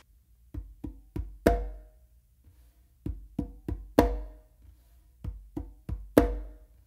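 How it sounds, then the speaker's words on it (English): Congas played slowly, soft ghost-note taps building to sharper palm slaps in a repeating pattern: short dry hits, a few quiet touches leading to each louder slap, close and alone with no talking. "So it's gonna be kind of like ghost note, palm slap."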